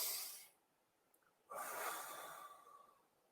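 A single deliberate breath: a long, close exhale fades out, then after a short pause a strong intake of air through the nose follows, steady and sustained for about two seconds, with no talk.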